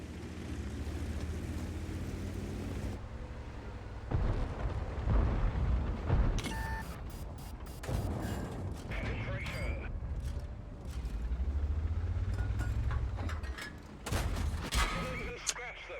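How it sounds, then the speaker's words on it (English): In the World of Tanks video game, artillery shells and gunfire crack and boom around a tank, with loud blasts and mechanical rumbling under a talking voice. "did I just lose 370 hit points to a single artillery shell?"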